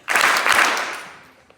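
An audience in a school assembly hall gives a coordinated double clap for a fall-sports athlete, a loud sudden burst of many hands that fades away over about a second.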